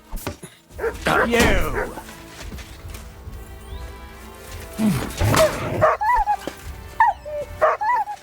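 In the video game Kingdom Come Deliverance 2, a dog barks and yips in a few short bursts, some close and loud, with someone speaking briefly over the scene.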